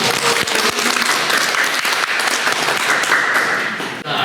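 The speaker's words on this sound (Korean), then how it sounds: "큰 박수 부탁드립니다" Steady, loud audience applause at a Sunday dharma talk, dense clapping from a seated crowd that holds for several seconds before tapering off near the end.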